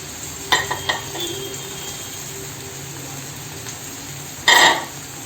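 Drumstick leaves and onion are sautéed in oil in a pan for a traditional Malvani dish, a low steady sizzle with scattered utensil scrapes and a loud clatter near the end, close, with no talk.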